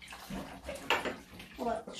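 Water runs and splashes into a bathtub during a bath with bath salts, a steady wash with brighter splashy bursts partway through, fairly close and moderately loud, with a person's voice partly over it.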